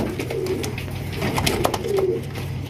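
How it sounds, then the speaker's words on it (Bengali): A big pair of satin pigeons coo close by in soft, repeated low throaty phrases over a constant background murmur. "দেখতে পাচ্ছেন একদম বিগ সাইজে একজোড়া ঝর্ণা সেটিন কবুতর"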